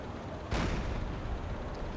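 Half a second in, a submarine deck gun in Silent Hunter 4 fires one sudden, heavy blast that booms and decays into a rumbling tail.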